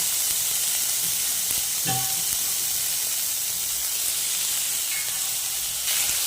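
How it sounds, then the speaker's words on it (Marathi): Paneer fries in oil in a pan with a loud, steady hiss and crackle throughout, plus a brief clink or stir near the start, close and continuous with no talking. "पनीर पण चांगलं फ्राय करूया"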